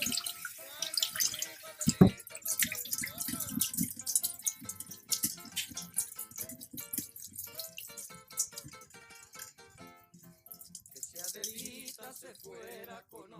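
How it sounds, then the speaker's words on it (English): Rice being rinsed under cold running water gives faint trickling and splashing with scattered drips and sloshes, quiet and irregular throughout. "you're gonna rinse it with cold water, because you want to make sure all the dirt and whatever is in the rice that might be harmful for you is gone"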